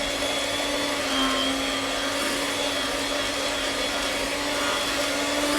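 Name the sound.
electric mixer mixing cream cheese and butter for icing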